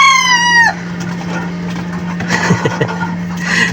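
Chickens and chicks in a coop: a loud, close rooster crow opens, then clucking and rustling hens continue with scattered knocks over a steady low hum.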